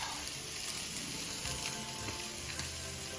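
Beef grilling on a Korean yakiniku grill sizzles and crackles steadily, a dense, close hiss with small pops throughout and no talk.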